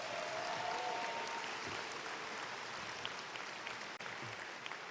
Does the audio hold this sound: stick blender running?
no